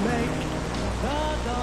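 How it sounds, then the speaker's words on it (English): Steady, dense rain patters across the whole moment with an even hiss and no break, while a tonal voice or music drifts over it in the background. "I love rain."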